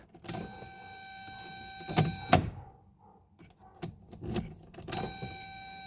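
A key turns in a new ignition lock cylinder on a 1980 Mercedes 300SD, giving a few mechanical clicks and clunks with tonal electronic chimes sounding at the start and end, close up in a quiet cabin.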